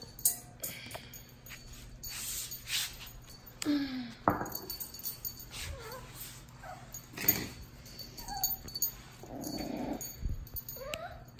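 Small dogs, a miniature pinscher and a dachshund, whimper, yip and growl softly in bursts close by, with quiet gaps between the sounds.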